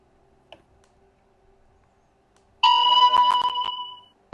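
A phone notification sounds from nearby during a tabletop game session: a bright, clean ringing chime lasting about a second and a half, ringing out clearly over near silence and then fading away.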